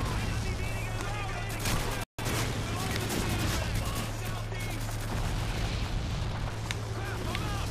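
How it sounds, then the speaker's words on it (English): A mortar explodes nearby in Call of Duty 2 amid dense, loud battlefield gunfire and booms, with a brief dropout partway through and a voice speaking over the din. "Just had a mortar fall on top of my head."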